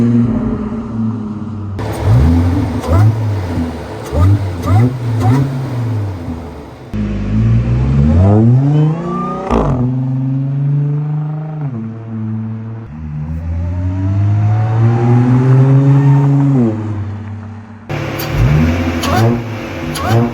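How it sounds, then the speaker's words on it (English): A supercharged 2013 Audi S5 B8.5 engine revs repeatedly, rising and falling in pitch with a whining supercharger edge, loud and close with brief pauses between pulls. "in case you guys don't hear the supercharger, I'll leave a few clips"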